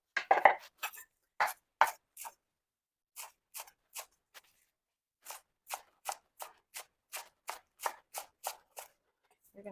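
Knife chopping citrus fruit into bite-size pieces for a salad: crisp, close taps in irregular clusters, then a steadier run of evenly spaced cuts, with quiet pauses between.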